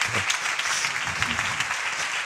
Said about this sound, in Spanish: Así que un aplauso para Javier Romero.